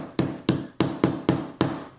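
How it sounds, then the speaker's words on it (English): Six sharp hammer blows land one after another at a steady pace, knocking the metal parts of a magnetic wallet file back into place. The strikes are close and loud, with no voices. "you can just hammer them back down"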